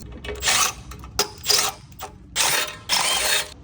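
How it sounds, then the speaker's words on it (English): A ratchet wrench removes screws from a pallet jack, quick rapid clicking bursts in four separate runs with short pauses between, close and fairly loud. "what we've got to do is remove 4 screws that hold the center section of this pallet jack together"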